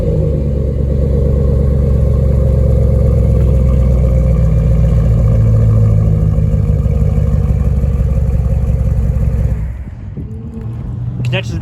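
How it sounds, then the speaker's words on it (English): A Ford pickup truck's engine runs loudly and steadily at close range, a deep continuous drone that drops off sharply near the end, with speech heard over it. "pretty reliable engine on there. Delivers nice amount of power. Like the sound it makes as well."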